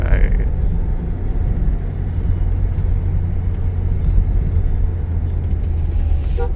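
Mahindra XUV700 petrol SUV driving through heavy traffic, a steady low engine and road rumble filling the cabin throughout, with someone speaking over it.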